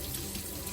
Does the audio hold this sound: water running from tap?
yes